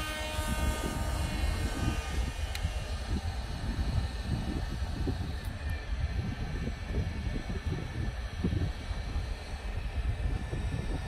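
Small FPV drone flying a demo flight over a ground station, a steady loud buzzing whir of motors with broadband wind-like noise throughout, no talk.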